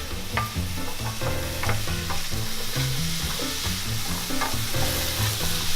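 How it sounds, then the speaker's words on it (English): Vegetables being stirred in a pot with olive oil, ground black pepper and herbs for a spicy chicken soup, a steady sizzle with repeated scraping strokes close by, alone without talk. "Okay, so we'll give this a stir."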